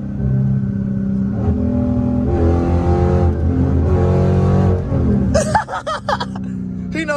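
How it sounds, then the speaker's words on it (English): A loud BMW revs hard, its engine roaring steadily, then shifting to rougher, choppier bursts near the end, with voices talking over it from inside a car. "That's a loud ass Beamer, though."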